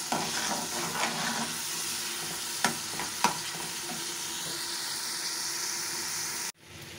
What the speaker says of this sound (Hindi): थोड़ा सा पानी ऐड करूँगी मैं इसमें।